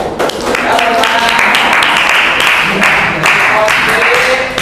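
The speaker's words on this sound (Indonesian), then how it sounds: "tepuk tangan dulu. Ya, tepuk tangan." Ninth-grade students in a school classroom applaud after a question during a class presentation, a loud, steady burst of many hands clapping for a few seconds, with voices mixed in.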